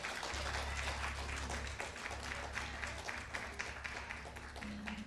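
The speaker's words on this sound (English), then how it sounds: "Come on, give the Lord a hand clap of praise." Church congregation clapping hands in praise, a dense, continuous wash of applause from many people with a steady low hum underneath, fairly faint and distant.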